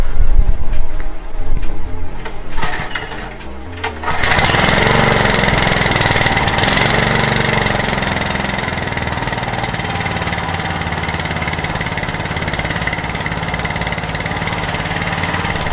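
A small Iseki A400F walk-behind tiller engine starts after a few seconds of knocking and fumbling, then runs steadily at a loud, close, even idle with a rough mechanical chatter for the rest of the time.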